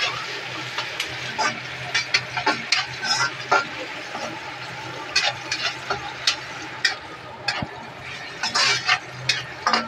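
Chopped onion and tomato fry in a pan at home for a Marathi onion dish. A low sizzle runs beneath frequent clinks and scrapes of a utensil against the pan.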